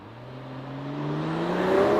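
A 2021 Mercedes-AMG E53 Cabriolet driving at normal road speed, its engine note rising smoothly and steadily as it gathers pace, a continuous moderately loud hum with no talking.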